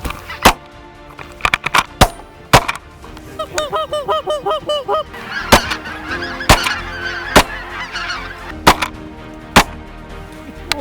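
A flock of waterfowl honks during a prairie waterfowl hunt, with a burst of rapid goose honking in the middle, sharp gunshots cracking repeatedly before and after, and more distant calls between the shots.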